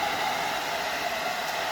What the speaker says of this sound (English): So again, hair dryer, high heat, low setting, back and forth.